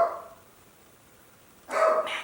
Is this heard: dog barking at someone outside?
yes